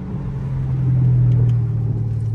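A Dodge Hellcat Redeye engine rumbles close by, a deep low growl that swells into a brief rev in the middle and then settles back, with no talking.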